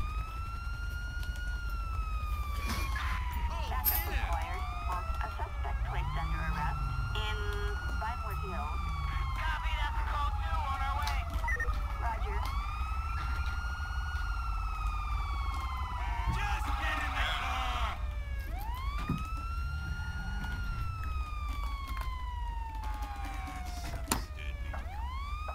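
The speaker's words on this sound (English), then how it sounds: "I need to turn the siren off, get out." A police car siren in the video game LSPDFR wails in repeated rising and falling sweeps over a steady engine rumble, loud and close, with someone talking at times.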